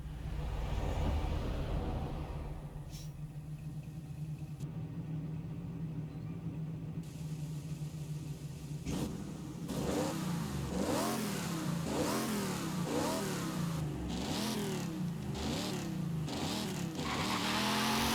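A car engine in Forza Horizon 5 idles with a deep steady rumble, then revs repeatedly in rising and falling surges.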